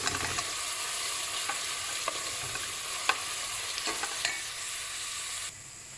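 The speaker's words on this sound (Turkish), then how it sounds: "Birazcık soğanlarımızı zeytinyağında kavuralım." Onions sauté in olive oil with a continuous close sizzle, broken by a few faint scrapes and taps of stirring, before the frying noise drops off near the end.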